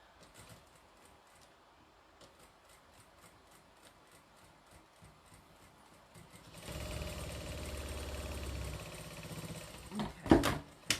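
A sewing machine stitches a long seam on quilt half-square triangles, its faint, rapid mechanical whir running quietly before growing louder and steadier partway through, ending with a few sharp clicks.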